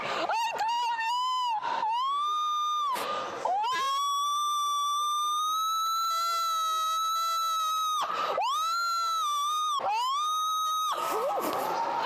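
A woman screams long and loud, her high sustained wail rising and falling like a police siren, broken by short gasps and repeated bursts, with a crowd faintly behind.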